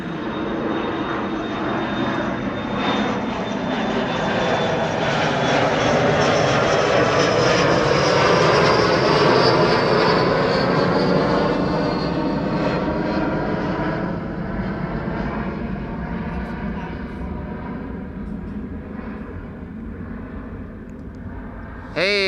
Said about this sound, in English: this Embraer 175 to Brussels